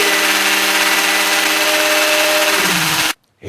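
A power drill runs steadily and loudly with a constant whine, its pitch dipping near the end before cutting off abruptly, leaving brief silence.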